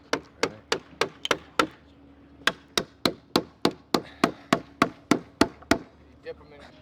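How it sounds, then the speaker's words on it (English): Heavy hammer driving waxed 7-inch wooden pegs into a 6-inch timber frame at a raising demonstration: a steady series of about twenty sharp, ringing blows in two runs, close and loud. "The reason I like using a heavy hammer for this is you need fewer blows"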